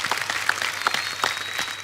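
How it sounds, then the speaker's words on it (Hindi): A television studio audience applauds steadily for a comedy show team, a dense patter of many hands clapping at once, with no voices over it. "इनके लिए एक बार ताली बजाइए"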